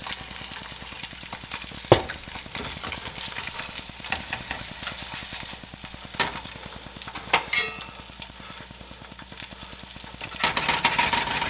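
A burger patty frying in a pan, a steady crackling sizzle running throughout with a few sharp clanks and scrapes as a spatula works under it to flip it.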